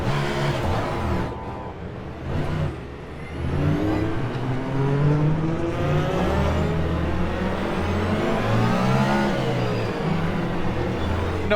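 Engine of an LMDH prototype race car in the sim racing game Le Mans Ultimate, a loud continuous drone with rising and falling revs as the car accelerates, heard alone with no talking.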